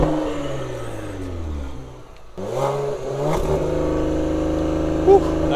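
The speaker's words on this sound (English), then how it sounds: "Let's hear those exhaust tips and the rumble of this engine right now." A 2021 Cadillac CT5-V engine rumbles and revs through its exhaust tips, dipping briefly then roaring back with a deep, throaty burble close by.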